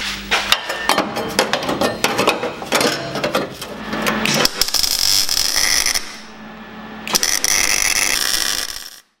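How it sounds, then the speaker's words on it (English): Factory inner guards from a Mazda 626 being welded into the body of a Mazda rotary project car: crackling, sputtering bursts in irregular runs, then a steadier sustained crackle after a short lull. "we'll weld those in now"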